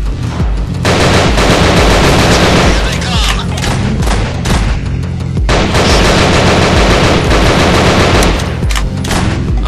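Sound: pistol gunfire in video game Nightmare House 2

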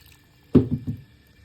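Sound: water poured into okroshka

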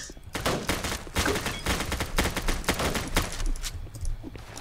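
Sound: gunfire in Roblox video game, sniper shots

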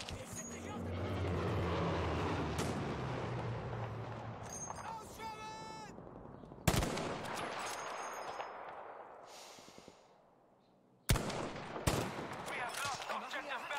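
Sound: gunfire in the video game Battlefield V

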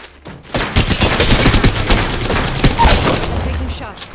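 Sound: gunfire in the video game Apex Legends

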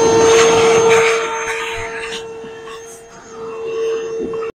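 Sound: vacuum cleaning out Polaris Sportsman 550 ATV belt housing

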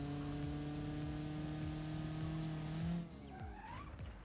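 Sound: Doyler Beagle car crashing in BeamNG.drive video game

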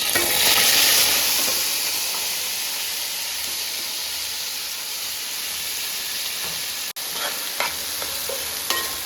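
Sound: onions, green chilies and tomatoes frying for fish biryani

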